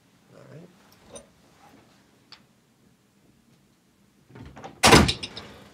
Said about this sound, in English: Close the door on the way out.